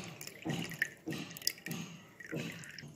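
Whey trickles and drips out of curdled milk squeezed through a strainer while making rasgulla, coming in short repeated splashy bursts close by with pauses between.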